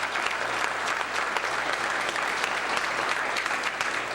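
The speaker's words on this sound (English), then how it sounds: "And so we just want to give them a round of applause." A crowd applauds at a public gathering honouring a youth education group, steady dense clapping at even volume held throughout, with no voice over it.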